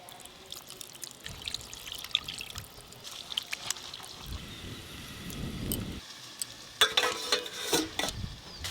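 Water left from rinsing ground spices off a grinding stone is poured into a cooking pan, a soft liquid pour and trickle rising in the middle of the clip amid light kitchen clatter and faint drips.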